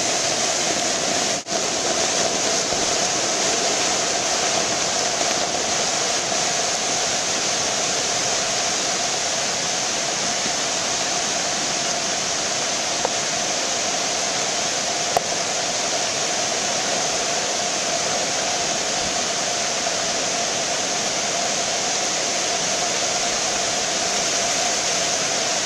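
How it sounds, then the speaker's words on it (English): A storm-flooded brook beside Spring Hill Road rushes in a loud, constant roar of churning water, with boulders tumbling beneath the surface adding a low rumble, a few faint knocks breaking the steady flow. "you can hear the low frequency noise of boulders flying down under the water"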